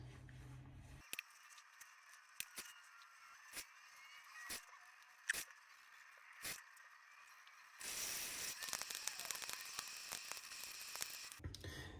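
A Cygnus razor scrapes stubble during a wet shave, giving a faint, steady rasp broken by sharp clicks, followed by a louder, denser stretch of scraping.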